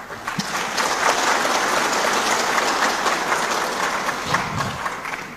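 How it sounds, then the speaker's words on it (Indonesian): Sustained audience applause fills a large hall at a national working meeting of an Indonesian religious organization, a dense, steady roar of many hands clapping at once, loud and unbroken throughout with no voices on top. "Ini tepuk tangan terus"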